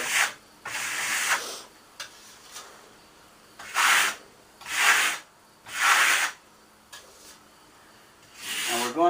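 Marmorino lime plaster smoothed with a trowel on a wall, giving several separate soft scraping swishes of a second or so each with short pauses between them, close and moderately loud with no talking.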